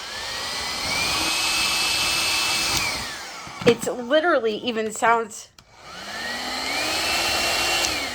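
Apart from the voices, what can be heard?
hair dryer running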